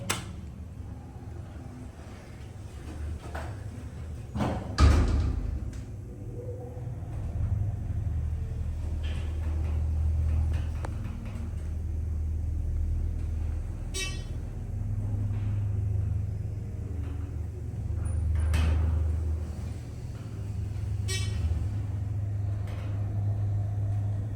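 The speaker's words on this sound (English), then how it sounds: "That is a beautiful sounding motor." A Dover Impulse hydraulic elevator motor runs in a recreation center at Texas A&M. Its deep, steady low rumble is broken by a few clunks and brief higher tones, and no one speaks.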